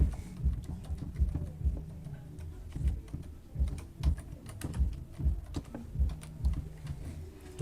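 Quick, irregular keystrokes clatter on a computer keyboard nearby, a continuous stream of light taps and clicks with no voices.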